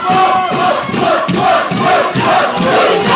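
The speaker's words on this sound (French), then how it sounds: "La foule est en délire." Arena crowd roaring and cheering wildly at a USC 13 combat-sports bout between Paul and Kylian, a loud sustained din of voices with rising swells and shouts throughout.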